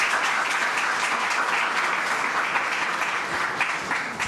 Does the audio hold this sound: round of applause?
yes